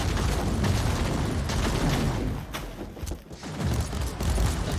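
Turrets firing in Warhammer 40,000: Inquisitor - Martyr, a dense, continuous barrage of rapid booming shots that keeps going for several seconds. It eases off briefly near the middle, then resumes at full loudness, with no voices.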